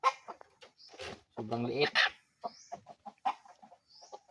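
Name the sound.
red junglefowl (labuyo) hen and chicks clucking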